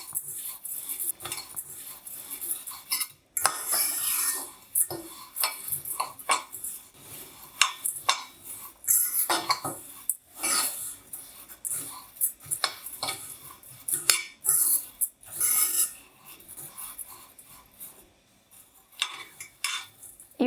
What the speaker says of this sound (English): You want to keep stirring everything around.